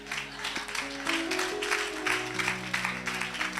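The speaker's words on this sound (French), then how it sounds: "On acclame pour mon grand frère" A church congregation claps rhythmically for the pastor's older brother in fast, steady bursts, with sustained musical tones running underneath.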